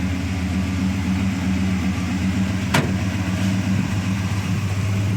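A 1978 Pontiac Firebird with its 400 engine runs at a steady idle, a loud, even low rumble with one brief sharp click partway through and no talk.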